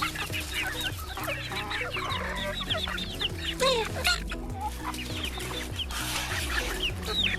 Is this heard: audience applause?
no